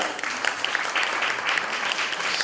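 An audience at a grief-support session breaks into steady applause, a dense continuous clatter of many hands clapping at moderate distance, filling the whole moment without a pause.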